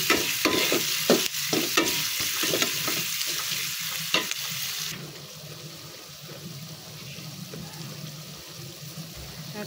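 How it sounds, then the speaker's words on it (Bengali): Onions and garlic frying in a pan: crisp sizzling with rhythmic stirring scrapes close up for the first half, then a quieter, steadier sizzle with no stirring. "এখন পেঁয়াজ আর রসুনগুলোকে ভাজা ভাজা করে নিচ্ছি।"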